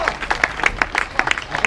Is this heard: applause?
yes